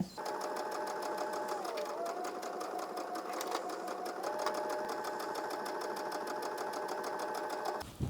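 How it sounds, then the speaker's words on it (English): A sewing machine stitches a long seam down fabric with a fast, steady mechanical whir and rapid needle ticking. The motor eases briefly and picks back up, close and continuous until it stops. "we're going to go ahead and sew all the way down on our sewing machine"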